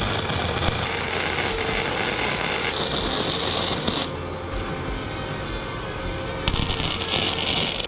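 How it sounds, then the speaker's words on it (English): An angle grinder works on a welded joint of a cross kart A-arm in a loud, continuous harsh roar that holds steady for several seconds, dips briefly, then surges back to full strength. "I just got done using the grinder on it."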